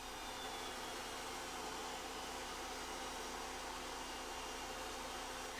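A Kirby G5 vacuum cleaner runs with its orbital massager attachment fitted, producing a constant, even motor whine and airflow hiss that holds steady from start to finish with no voices.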